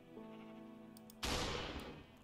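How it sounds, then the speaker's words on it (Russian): A Minecraft sheep lets out a drawn-out, buzzy bleat, cut off by a sudden loud burst that rings out for the rest of the moment. "Сраные овцы."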